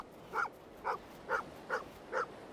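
A dog gives five short, evenly spaced whimpering yelps close by, each a brief whiny bark over a quiet background, with no talking.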